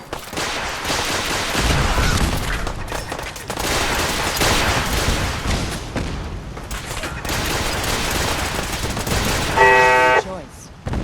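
Dense gunfire from raiders attacking a settlement in Fallout 4, loud overlapping shots and bursts filling the whole stretch with barely a pause, ending in a short tone.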